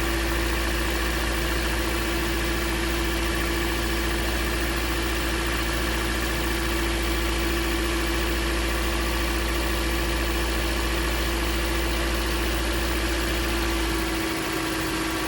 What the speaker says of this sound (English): Definitely got a high idle for some reason.